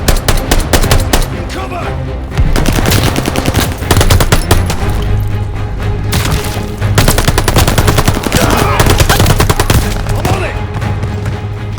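Sustained machine gun fire rattles nonstop in a Call of Duty Vanguard battle, loud and dense with overlapping bursts, while soldiers shout orders over the gunfire.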